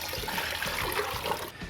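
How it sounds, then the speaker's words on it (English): Cold water pours steadily into a turkey brine, a loud continuous splashing gush that stops abruptly near the end. "We're going to start cooling down our brine with some cold water."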